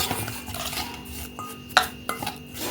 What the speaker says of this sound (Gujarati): આપણે હલાવી લીધું છે,